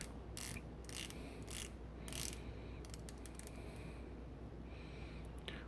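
Seiko SBBN037 Blue Tuna dive watch bezel turned by hand, giving close, crisp ratcheting detent clicks in quick bursts with short pauses between them, over a quiet background.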